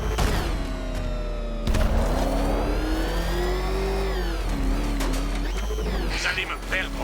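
A car engine in a Batman Arkham Knight video game chase revs in a steady mid-pitched drone that climbs and falls, with game voices and effects over it.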